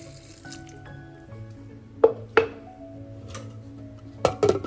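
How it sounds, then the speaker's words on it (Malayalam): Water trickles and splashes into a mixer jar holding dal and drumstick-leaf curry paste ingredients with green chillies, cumin and curry leaves, a soft pour broken by a few sharp close taps and drips. "ആവശ്യത്തിന് വെള്ളം കൂടെ ഒഴിച്ച്"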